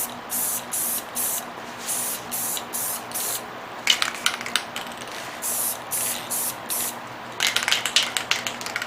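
An aerosol can sprays a light coat of paint onto a Hot Wheels Chevy S10 truck in a series of short, evenly spaced hissing bursts, with a few longer sprays and rattly clicks later on, close and without speech.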